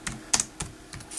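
Close-up computer keyboard typing, a handful of crisp, irregular keystrokes clicking in quick succession with no voice.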